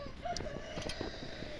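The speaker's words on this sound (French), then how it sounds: "Dans la volière il y a reproduction coureur indien et poule marance." Marans hens in an aviary give soft, scattered clucks and brief calls at moderate distance, over faint background noise with no talking.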